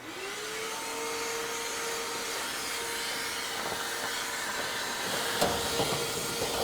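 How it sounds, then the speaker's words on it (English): A vacuum cleaner runs steadily at close range, its motor whine rising as it sucks accumulated layers of lint out of the inside of a Samsung clothes dryer with the drum removed; a brief knock near the end. "So vacuum it."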